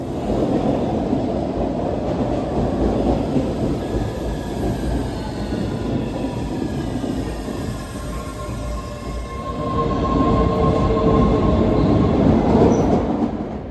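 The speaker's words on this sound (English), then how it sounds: "Nope, that's a Bombardier train, built in 1993." A 1993 Bombardier subway train rumbles close by at Boston's Broadway Station, wheels grinding and squealing on the rails, the noise swelling louder toward the end.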